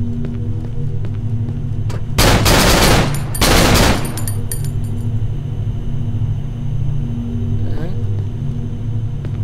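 Gunfire in the video game Cry of Fear: two loud, dense bursts of shots, each under a second, over a steady rumbling game background.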